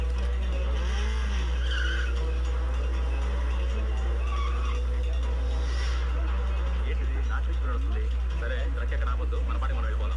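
Tires squeal in a long continuous skid as a car drifts, loud and sustained under heavy engine rumble and a dense film soundtrack, with voices over it.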